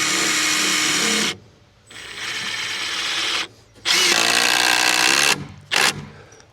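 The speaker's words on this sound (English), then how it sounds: "Other than running screws through the bottom plate and through the floor and into the bottom floor joists" A power drill drives screws through a shed wall's bottom plate into the floor, running in three bursts with short pauses, motor whine rising as each screw seats, close and loud.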